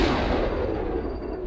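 Heavy mech weapons fire in the video game MechWarrior Online during a brawl, a loud, booming blast that rolls out and decays over a moment, alone without talk.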